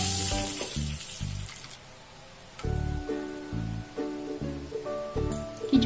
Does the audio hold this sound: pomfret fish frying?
yes